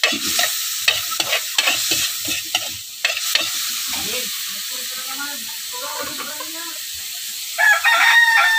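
Clam meat and aromatics for a Filipino ginisang lokan dish sauté in a pan with a steady close sizzle and stirring clatter, a rooster crowing in the background.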